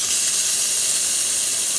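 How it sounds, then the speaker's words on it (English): A Rocket espresso machine's steam wand hisses in a steady, loud, continuous rush of steam, close up with no pauses. "Alright, do a little steam."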